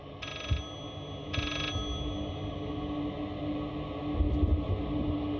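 Ringing telephone in the horror game Layers of Fear, two clear electronic ring bursts early on, then a faint third near the end, set against a dark, humming ambient soundscape without speech.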